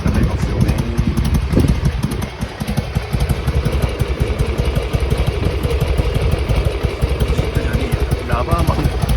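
A Harley-Davidson Sportster XL883R idles while warming up, with a loud, close, uneven rumbling and clattering that continues steadily. A voice speaks over it.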